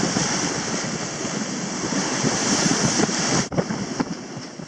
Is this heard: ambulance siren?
no